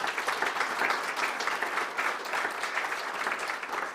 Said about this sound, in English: So a round of applause for each of those, please.